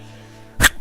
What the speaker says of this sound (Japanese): ハクションが。